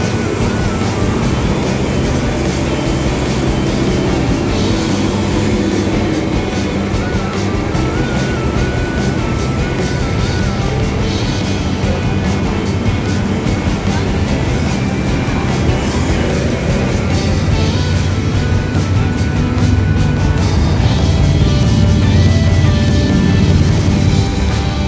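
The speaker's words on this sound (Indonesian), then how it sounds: "karena ini adalah di pinggir jalan raya, maka mobil lalu-lalang cukup ramai sekali suaranya" Loud, constant roar of traffic with cars rushing past on a busy road, a dense wash of engine and tire noise.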